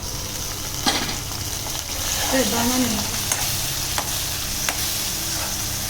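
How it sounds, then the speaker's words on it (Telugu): Green chilli paste frying in a pan for a green chicken dish, giving a steady, fairly loud sizzle with a few sharp stirring clicks and scrapes, close by. "ఇది పచ్చివాసన పోయేంత వరకు ఫ్రై చేసుకోవాలి."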